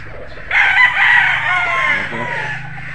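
A six-month-old street Golden Boy Sweater gamecock crows once, loud and close, its drawn-out call starting after a brief quiet lead-in over faint background noise.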